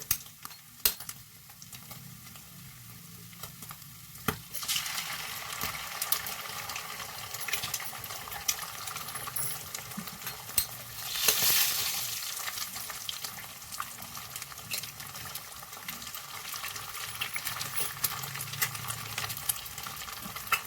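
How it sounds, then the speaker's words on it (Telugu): Two eggs sizzle and fry in a pan for breakfast chicken noodles, a steady crackling hiss with occasional louder spatters and utensil scrapes. "నేను దీంట్లో అయితే టూ ఎగ్స్ వేస్తున్నానండి"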